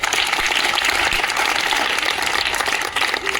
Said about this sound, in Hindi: जीविका मौर्य के लिए तालियां हो जाए।